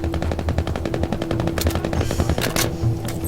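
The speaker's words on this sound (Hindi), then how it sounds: "पता नहीं जल्दी गोलियां कहाँ से चल रही हैं" Loud, sustained machine-gun fire in the Battlefield V campaign, rapid rhythmic bursts that continue throughout, with heavier single shots cutting in near the end and no talking.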